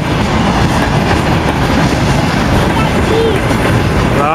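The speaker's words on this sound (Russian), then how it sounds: "Видишь, новенькие вагончики?" Freight train wagons roll past at close range, a steady loud rumble with clickety-clack of wheels over rail joints and a brief metallic squeal near the end, with no gaps throughout.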